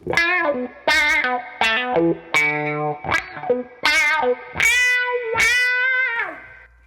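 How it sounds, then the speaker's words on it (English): Electric guitar, a PRS Custom 24 on a clean channel, pushed through a Cry Baby wah pedal, the tone sweeping in vocal, meow-like swells over a series of separate notes and chords. "Let's hear the Crybaby."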